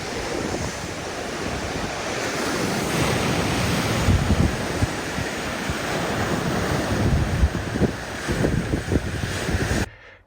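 Waves breaking and wind sweeping across a sea cove on the Irish coast, a steady loud roar of surf with wind buffeting the microphone, no voices, cutting off abruptly at the end.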